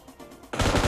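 Loud burst of rapid automatic machine gun fire in PUBG Mobile, starting abruptly after a quiet lull and continuing as a dense, fast rattle to the end.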